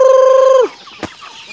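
A chicken gives one loud, drawn-out call for just over half a second, then it goes quiet apart from a faint brief knock.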